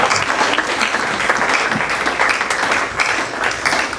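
A church congregation applauds loudly and steadily at a French-language worship service, a dense, sustained wash of many hands clapping with no break.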